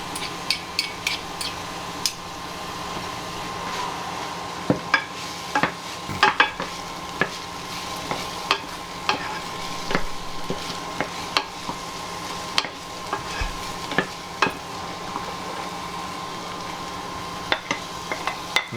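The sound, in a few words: stirring onions and garlic frying in a pan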